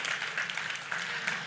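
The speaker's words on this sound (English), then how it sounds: "Let's give him a big applause." Faint applause from a Devcon SEA conference audience after a talk, soft continuous clapping heard at a distance.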